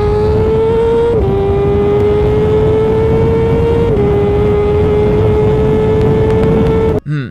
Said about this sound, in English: It's on here because it sounds exactly like a homologation race bike should.